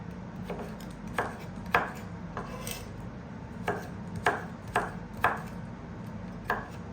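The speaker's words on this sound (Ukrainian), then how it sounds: "Моркву не натираємо на тертку, а нарізаємо крупними шматками" Carrots are cut into large chunks with about ten sharp knife strikes on a board, spaced irregularly and fairly close, over a low steady hum with no talking.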